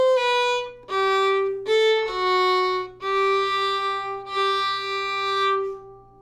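Old-time fiddle plays the fourth phrase of the B part of Going Down to Cairo: a clear run of about seven bowed notes, some short and some held, bright and close with no talk.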